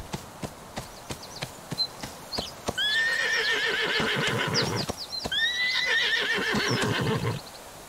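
A horse in the Ostwind video game whinnies loudly twice in long, wavering calls, with rhythmic clip-clop hoofbeats ticking before and beneath the neighs.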